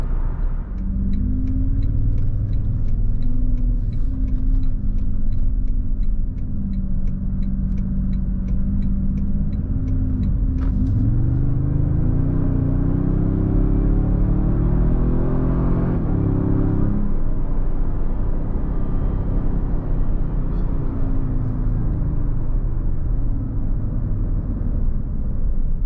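2022 Toyota Tundra twin-turbo V6 towing a trailer, a steady, loud low engine drone heard from inside the cab, with pitch shifts as it pulls through gears.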